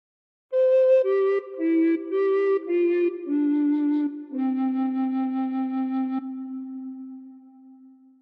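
A recorder plays a phrase of Silent Night as a clear, breathy melody of about eight separate notes, then settles on a long held low note that fades away. It is close and alone, with no voices.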